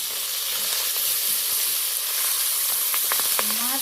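Tengra fish frying in oil, a dense, close, steady sizzle running throughout with a few clinks near the end.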